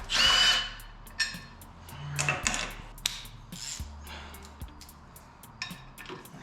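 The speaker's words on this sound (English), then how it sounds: "And the other one, you have to get off with my ratchet." A ratchet works loose parts while the top end of a Subaru engine is taken apart: close, intermittent bursts of clicking and metallic knocks with short pauses between, and no talking.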